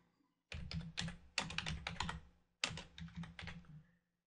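Quick bursts of typing on a computer keyboard arrive in three short runs of crisp, close key clicks separated by brief pauses.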